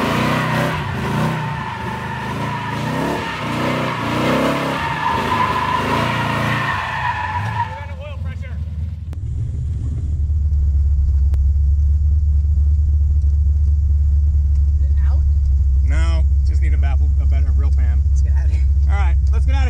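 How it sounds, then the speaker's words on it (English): A 1971 Dodge Demon 340 does a burnout: voices talk first, then a deep engine rumble builds and holds loud and steady, with occasional tire squeal above it. "Should we do, like, maybe one more big burnout?"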